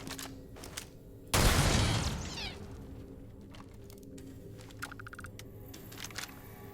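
Turret in the Starfield video game firing a sudden loud burst of gunfire that decays over about a second, followed by quieter clicks and ambient game sounds.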